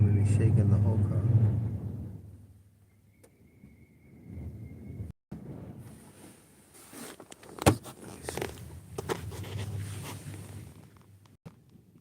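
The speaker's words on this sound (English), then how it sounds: "this wind is out of control" Strong gusty wind buffeting a car on a Bronx street, with low rumbling pressure and rattling thumps against the body, a sharp knock midway, while someone talks inside the cabin.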